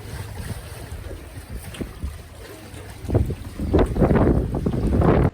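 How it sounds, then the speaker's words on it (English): Strong 55 mph wind gusting across a marina on Christmas Eve, a steady roar with surging, louder gusts toward the end, likely with boat and water noise mixed in, no talk. "It's Christmas Eve and we have 55-mile-an-hour winds out there."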